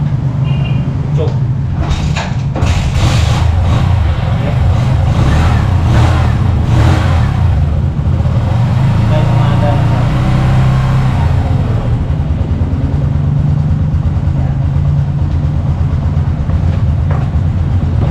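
A 2024 Kawasaki CT125 motorcycle engine starts and runs at a steady idle nearby, a loud continuous low rumble, while someone talks over it.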